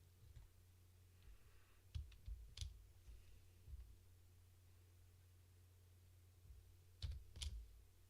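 Sparse keyboard clicks from a computer keyboard being used to set shortcut keys, in a few short bursts of taps separated by quiet pauses, over a steady low hum.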